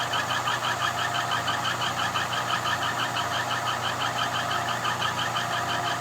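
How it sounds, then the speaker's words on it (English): Running machinery in an axle-splining workshop, with a loose piece of sheet metal rattling fast and evenly over a steady engine-like drone, loud and continuous, with no talk. "One of these days we got to fix that piece of sheet metal that's rattling."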